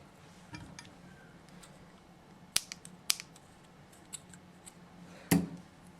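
Scissors snip a knitted cord on a baby dress, a few sharp isolated clicks standing out against a quiet background.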